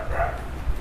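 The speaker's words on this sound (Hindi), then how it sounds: "मोहल्ले में बहुत कुत्ते हैं, कोई दिक्कत नहीं है, भौंकने दो साले को।" A neighbourhood dog barks once, briefly and somewhat distant.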